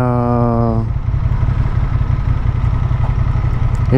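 A Honda XL750 Transalp motorcycle engine runs close by with a steady, low, throbbing rumble that continues without a break.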